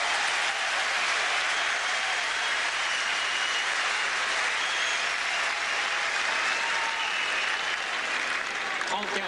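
A tennis crowd at the French Open applauds loudly after a long defensive point by Federer in a semifinal against Nadal, sustained roaring applause filling the whole stretch while a commentator's voice is faintly present.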